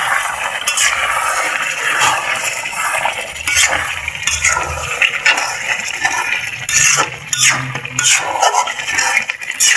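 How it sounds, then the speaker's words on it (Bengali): Beef being sautéed and stirred in a pot, loud continuous scraping and clattering of a spoon against metal over a dense sizzle, with irregular bursts of stirring throughout. "মাংসগুলো কষা হইতেছে।"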